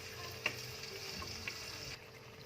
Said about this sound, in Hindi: बस ऐसे ही वक्फे वक्फे से मैं स्पैटुला चलाऊँगी और इसे कुक करती रहूँगी